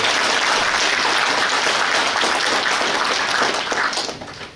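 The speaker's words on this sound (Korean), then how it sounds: "여러분들 위해서 함께 자축 박수 한번 치겠습니다." Party members gathered at a rally clap together in loud, dense applause that stays steady before tapering off toward the end, with no voices over it.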